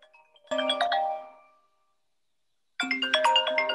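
A mobile phone ringtone goes off during an indoor instructor training session on powerboat search patterns, playing two loud melodic bursts of electronic tones separated by a short silence.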